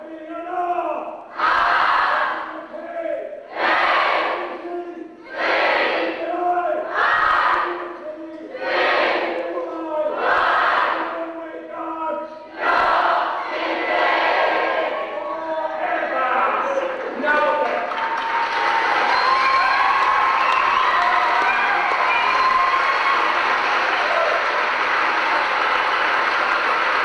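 Football supporters' crowd at a trust launch night roars 'no' in unison on cue, several rhythmic chanted bursts in a row, then a swelling sustained cheer and clamour from the packed room.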